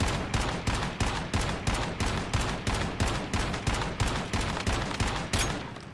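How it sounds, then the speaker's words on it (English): A shotgun in the video game Once Human empties a full clip into a test dummy, firing about fifteen loud, evenly spaced blasts in quick succession, close and clear with no talk. "let's load an entire clip into the test dummy here and see our total damage"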